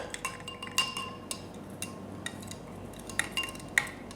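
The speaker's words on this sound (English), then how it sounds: "I'm just going to put the rest in and give it a stir." A spoon stirring absinthe spirit in a glass vessel, giving sparse light clinks and taps against the glass, quiet and close, with no voices.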